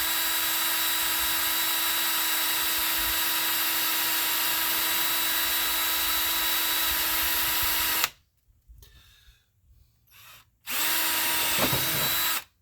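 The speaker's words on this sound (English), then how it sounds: "we're gonna drill one hole right there." A power drill whines steadily and loudly for about eight seconds while drilling a hole for hunt buggy lights, stops, then revs up again briefly after a pause with faint handling noise.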